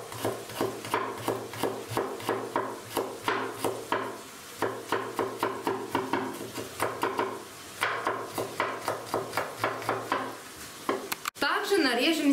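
A knife finely chops crushed garlic cloves on a cutting board in quick rhythmic bursts of sharp taps, with short pauses between runs.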